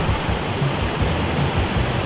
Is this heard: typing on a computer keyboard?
no